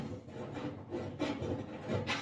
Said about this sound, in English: get you a chainsaw file, stick it in your hole, and just spin it and work your way around